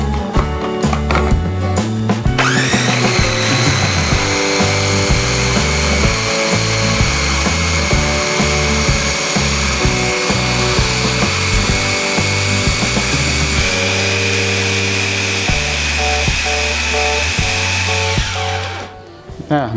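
Electric blender crushing a packed banana mixture, a loud continuous motor whine with shifting low grinding tones that runs steadily for about sixteen seconds before winding down at the end.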